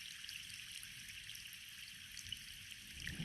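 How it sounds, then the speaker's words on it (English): Soft, steady rain patters on trees and plants, a faint continuous hiss with scattered drips and no voices. "You observe as the rain falls on the trees and the plants around you."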